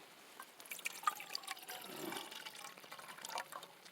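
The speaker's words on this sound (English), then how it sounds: "Get a little water in there." A thin stream of water trickles and splashes faintly into a small Dollar Tree pot outdoors at night, a quiet, continuous pour with slight bubbling and no talk.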